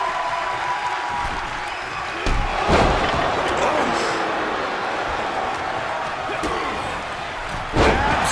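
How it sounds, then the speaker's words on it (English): A wrestler is spiked onto the mat with a DDT during a tag-team wrestling match: a heavy thud rings through the ring amid a noisy arena crowd, with a second slam near the end and voices over the crowd. "Absolutely spiked DDT."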